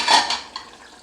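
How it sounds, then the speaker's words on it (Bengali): A lid is lifted off a pot of Bengali aar fish kalia on the stove, giving a brief metallic clink followed by a faint sizzle. "এবার আমি ঢাকাটা খুলে দেখব।"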